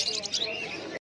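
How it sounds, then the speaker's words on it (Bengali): Coloured lovebirds caged together at a bird market, a brief burst of bright, close chirps and tweets that stops abruptly. "এখানে কিছু লাভবার্ড আছে দেখো, কালারিং লাভবার্ড, এক খাঁচার মধ্যে অনেকগুলো রয়েছে"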